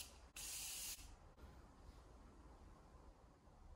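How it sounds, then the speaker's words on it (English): Morphe Continuous Setting Mist sprayed onto a face in one loud, steady burst of fine hiss lasting about half a second, with a short faint puff after it and then quiet room tone. "I just chuck on my setting spray, which is the Morphe Continuous Setting Mist."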